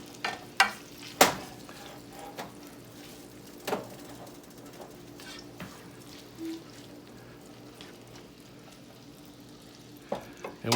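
Onions sautéing in a pan over medium heat for a keto cheeseburger pie, a quiet low sizzle broken by sharp scraping knocks of a spoon stirring, clustered at the start and end.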